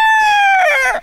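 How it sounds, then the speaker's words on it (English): A rooster crows once, close and loud, a single sustained drawn-out call lasting about a second before cutting off. "We now come back to our regular feature of chickens."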